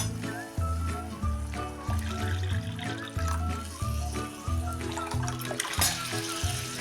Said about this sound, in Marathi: त्यामध्ये आता ही शिजवलेली डाळ ओतून घेऊया